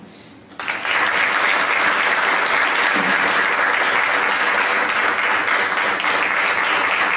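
Audience applause at an induction ceremony honoring five inductees bursts in after a brief quiet moment, then holds as a dense, loud, even wash of many hands clapping through to the end.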